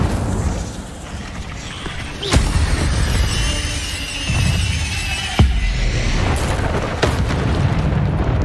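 An Incendio fire spell blasts in Hogwarts Legacy, a few sharp booming cracks over a constant roaring, crackling fire-like rumble that stays loud and close.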